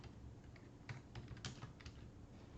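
Rapid, irregular clicking of a computer keyboard as a command is typed into a command line, close and fairly quiet, with a few louder keystrokes and no talking.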